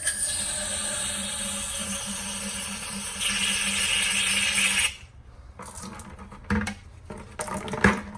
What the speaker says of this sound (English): take your brake clean and just spray in each hole and then just kind of pour it out